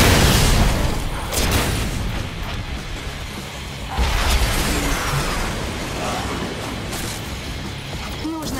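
Train boosters exploding in the video game Sunset Overdrive, a loud burst at the start and another booming blast near four seconds, with rumbling mechanical noise between.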